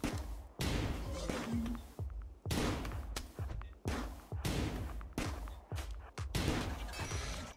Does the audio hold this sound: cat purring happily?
no